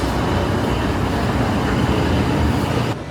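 Steady, loud rumble of an Amtrak Capitol Limited train at Union Station in Washington DC, a continuous broadband roar of rolling rail cars that drops off abruptly near the end.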